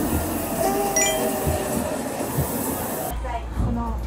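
A train rumbles and rolls into a station in the Nagoya area with metallic clinks and squeals, a voice talking over the noise before it settles quieter.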